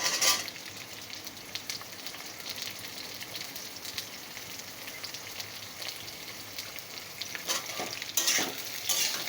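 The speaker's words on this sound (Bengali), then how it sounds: "পটলটা দিয়েও একটু নাড়াচাড়া করে নেব," Pointed gourd, potato and pumpkin stir-frying in oil, a steady close sizzle with occasional scraping stirs of a spatula, no voices over it.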